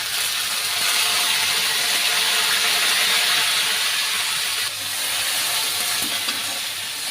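Garlic paste hitting a hot pan, a loud, dense, continuous sizzle close up with a brief dip near the end and no voices over it.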